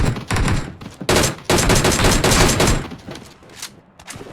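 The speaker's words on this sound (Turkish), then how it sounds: "Aha arkadan sıkıyorlar." Gunfire in the mobile battle royale game PUBG Mobile: loud, rapid bursts of shots in several clusters separated by brief gaps, fading toward the end.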